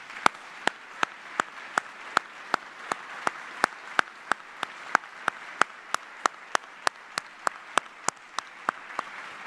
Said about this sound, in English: please join me in a round of applause for the families of our retirees.